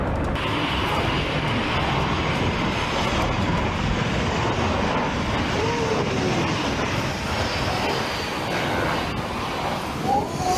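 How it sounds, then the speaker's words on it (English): A Wizz Air A321neo airliner making an exceptionally low landing over gathered tourists, a loud, steady, broadband engine roar sustained throughout, close and overwhelming with no talk. "an exceptionally low landing by a Wizz Air A321neo narrowly missed tourists who had gathered to watch the planes"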